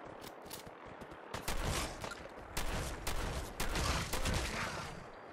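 Repeated rounds of gunfire from Fallout 4 crack out in several loud clusters over a rumbling backdrop of game sound, with no voices.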